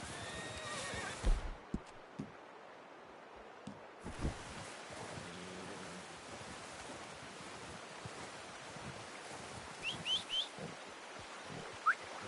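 A horse in Red Dead Redemption 2 whinnies and snorts near the start, hooves clopping and shifting, with wind and ambient wilderness sounds behind and a few faint bird calls later, no talking.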